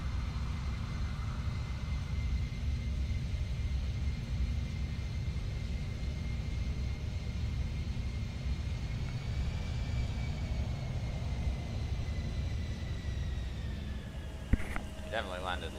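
Steady, loud rumbling drone of an Embraer E175 airliner's engines in Microsoft Flight Simulator during landing, with tonal whine shifting slightly near the end and a brief clunk just before it finishes.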